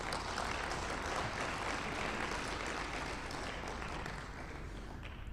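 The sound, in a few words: conference audience applause for event organizers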